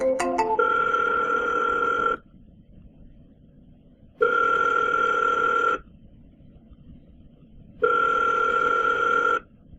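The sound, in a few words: outgoing phone call ringing from cold calling software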